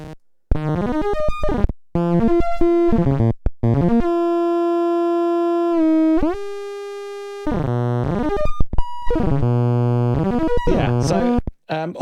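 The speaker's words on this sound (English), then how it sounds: "Get some nice zap sound effects for that" Zapping electronic tones from a DIY 555 timer synth punk kit, loud buzzy harmonic bursts with pitch sweeps and chirps, interrupted by brief gaps and a long held steady drone in the middle, alone without talk.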